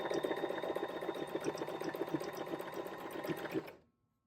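A JOANN sewing machine runs a zigzag stitch, its needle chattering in a fast, even rhythm close up for several seconds before stopping abruptly.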